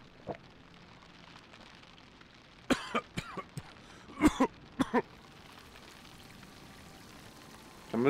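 A character coughs in the video game Northern Lights, several short harsh coughs in a cluster midway with a couple of isolated ones before and at the end, over a quiet ambient background.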